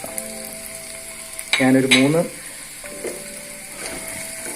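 Dried red chillies and curry leaves frying in a hot pan, a sharp burst of sizzling that swells loudly for under a second, then settles into a quieter steady crackle, with a brief voice heard.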